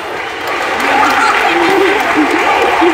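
Audience applause at a church concert at a sanctuary, loud and steady for three seconds, with a voice faintly carrying over the clapping.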